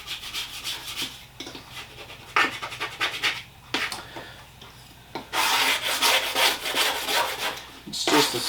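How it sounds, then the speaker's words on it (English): Scraping coconut residue off the sides of a water bowl: repeated rough rubbing strokes in bursts, close and fairly loud, with short pauses between scrapes. "Trying to get some of the residue off the sides of this."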